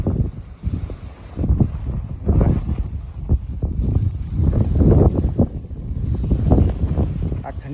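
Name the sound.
cold wind blowing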